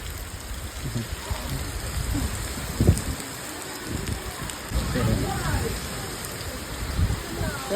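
Steady heavy rain hisses all around during a first-of-season thunderstorm in a village, with a brief spoken word and some low rumbling and knocks beneath the downpour.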